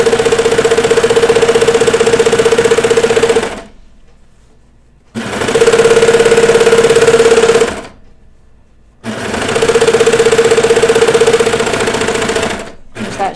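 Sewing machine stitching a hem on a child's pajama bottoms, running in three loud steady bursts with a constant hum, separated by short pauses.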